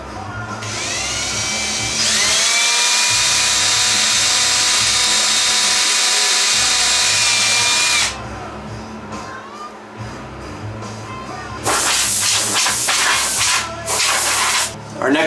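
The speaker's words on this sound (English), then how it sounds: "I'm just drilling the holes right now because some of the holes got covered up by the epoxy" A power drill runs in long sustained whines as it bores out holes in epoxy-coated steel, with brief pauses between bursts and some rougher grinding toward the end, close and loud.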